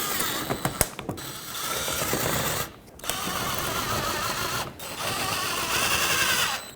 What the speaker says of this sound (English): put back all the screws that were holding all of your shields in place